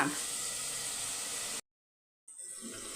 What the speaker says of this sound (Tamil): ஸ்டவ்வை நல்லா ஃபுல்லாக வச்சுட்டு நல்லா வதக்கணும் தக்காளி வெங்காயம்